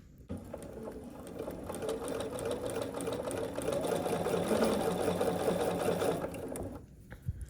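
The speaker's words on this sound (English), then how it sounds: "I'm just gonna work on sewing these together now." Sewing machine stitching Ohio star quilt block pieces together, a steady close whirring run that builds slightly in speed and stops after about six seconds, with no talk.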